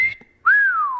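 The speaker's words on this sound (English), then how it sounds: "That's called the wolf whistle." A world champion whistler performs a wolf whistle: a short steady note followed by a loud, close, swooping whistle that rises and then slowly falls, heard alone without talk.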